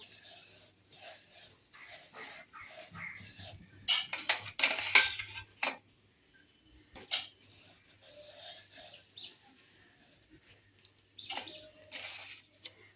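A crispy snack is tossed in a bowl with butter and milk powder, making scraping, rubbing clatter of a utensil against the bowl in uneven bursts, busiest in the middle.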